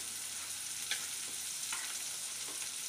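Fish kulambu, a spicy Tamil fish curry, simmering in a pot, giving a steady soft bubbling hiss with a few faint pops and no talking.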